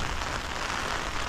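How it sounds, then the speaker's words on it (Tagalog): Heavy rain pounding on an umbrella, a dense, loud, unbroken patter of drops close overhead. "Kasi ang lakas naman ng ulan."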